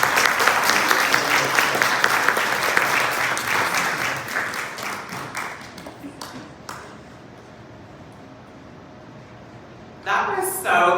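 Audience applause after a short film screening fills the room loudly for several seconds, then thins out and fades into near quiet before a brief burst of noise returns at the end.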